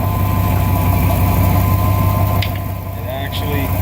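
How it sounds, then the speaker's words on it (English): A 1999 Dodge Ram idles nearby with a steady low rumble and a faint metallic rattle said to come from a bad catalytic converter, while someone talks over the engine noise. "Sometimes I hear a rattling noise, and it's coming out of this"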